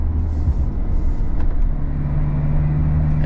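A Peugeot Landtrek 4x4 pickup with a 150 hp engine pulls uphill in third gear on a steep mountain road, a steady loud low engine drone with rumbling cabin noise throughout and no speech.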